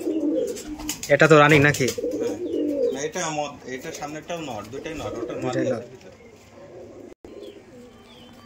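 Giribaz pigeons on a farm coo in soft, repeated calls, mixed in with a voice talking over much of the stretch before it quiets toward the end.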